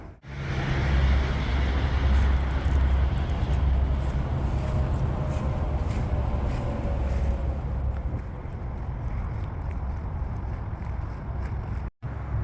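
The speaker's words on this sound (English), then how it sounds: "Got the freeway and you got the airplanes." Steady roar of freeway traffic mixed with airplane noise fills a park, a loud continuous broadband rumble with a brief dropout near the end and no talking.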